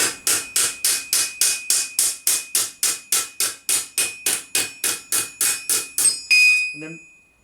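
Steel edge of medieval armour hammered on an anvil: about twenty sharp, ringing metallic strikes in a fast, even rhythm, close and loud, ending in a longer ringing clang.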